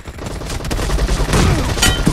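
Dense automatic gunfire from PUBG Mobile in an 8vs8 match, a loud continuous fusillade of rapid shots with brief bursts layered over battle noise, no talking.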